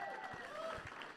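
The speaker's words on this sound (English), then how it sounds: "put that applause up there real quick" Audience applause at a Celebrate Recovery church gathering in Cocke County, a short burst of steady clapping with some voices mixed in.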